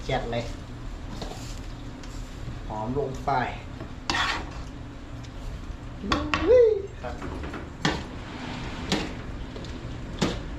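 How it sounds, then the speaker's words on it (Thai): Mama instant noodles stir-fry in a pan as a metal spatula clanks and scrapes irregularly against the pan, close by, with someone talking over the cooking. "ผัดมาม่าแซ่บๆ หลังเลิกงานครับผม"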